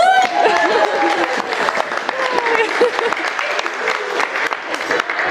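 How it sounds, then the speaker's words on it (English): Wedding guests applauding during a speech, crisp clapping from a nearby crowd with scattered cheers and voices layered over it, lively and continuous. "can I get a round of applause"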